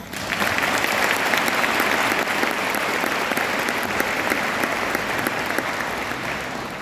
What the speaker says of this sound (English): Now a round of applause to all those